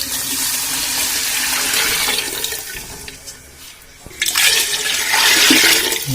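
Water poured into a cooking pot while making chicken biryani, a broad splashing and gushing flow that runs steadily, briefly drops off, then returns loud and close.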